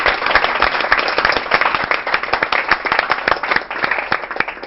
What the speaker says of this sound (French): C'est du direct, on applaudit bien fort.